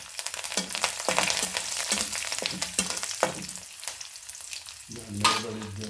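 Okra curry with ridge gourd and curry leaves sizzles in a pan while a spoon stirs and scrapes in short repeated strokes, close and moderately loud, ending in a louder burst of sizzling.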